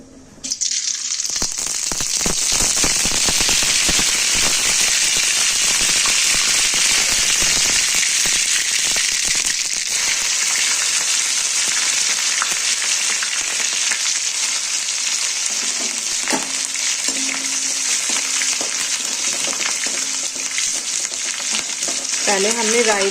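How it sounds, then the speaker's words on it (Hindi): Mustard seeds crackling and spitting in hot oil in a home kitchen pan, a loud, dense sizzle with rapid popping that runs steadily throughout and eases slightly toward the end. "और तेल गरम हो गया है। अब इसमें राई डालूंगी।"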